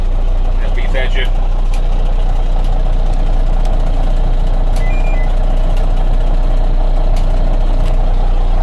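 Eaton Vorad collision radar in an M915A4R2 truck sounds a short burst of high electronic warning beeps near the start, over a loud, steady diesel engine drone, with a faint tone briefly later.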